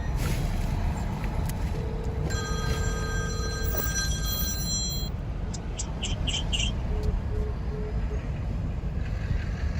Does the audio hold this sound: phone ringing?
yes